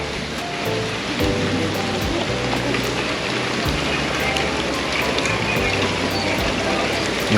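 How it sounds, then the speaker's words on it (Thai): Rain falls steadily at a hilltop viewpoint on Khao Phra Khru near Si Racha, a constant broadband hiss with no breaks, fairly loud and close throughout. "มีแดดแล้วมีฝนนะครับ"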